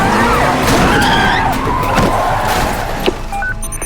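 Car tires skid and squeal loudly just before a crash, a sustained screech that lasts several seconds and then fades, with no talking.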